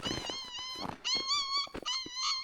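A dog whimpers and whines in high, wavering cries broken by low growls, close and fairly loud, with no talk over it.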